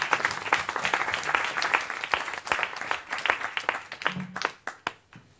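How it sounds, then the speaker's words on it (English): Audience applause for pitch presenters at a Brussels startup event, with close, lively clapping that thins into scattered claps and fades out near the end. "So big applause for Frederik and Michel."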